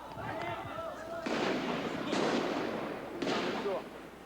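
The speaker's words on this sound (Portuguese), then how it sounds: "A todo momento, mais tiros" Several loud bursts of cracking gunfire during 1988 strike clashes at the CSN steelworks in Volta Redonda, Brazil, a few seconds apart, with a faint voice and street noise in the gaps.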